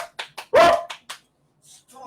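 A dog barks close by in a run of short sharp yips and one louder, longer bark, then falls quiet before faint rustling.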